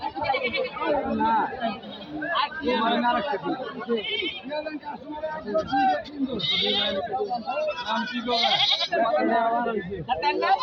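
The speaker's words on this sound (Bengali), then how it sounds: "চলুন আমরা দেখতে থাকি বাকি ছাগলগুলি।" Goats and kids bleat repeatedly at a busy Eid al-Adha livestock market in Gazipur, with the calls rising over constant crowd chatter and nearby voices.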